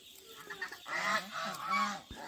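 Several geese honk in quick, overlapping bursts close by on a duck farm, the calls rising and falling loudly through a busy exchange.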